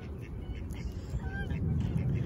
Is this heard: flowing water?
no